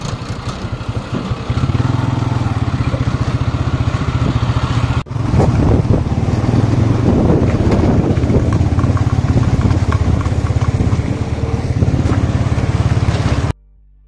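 A motorcycle riding along a mountain road in the hills, its engine running loud and close with a steady throbbing drone, wind buffeting the microphone throughout, with a brief break midway before the ride continues.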